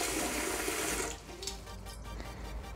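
A handheld bidet sprayer shooting a single water stream, a steady loud hiss that cuts off after about a second and leaves a quieter trickle with faint clicks of the nozzle being handled.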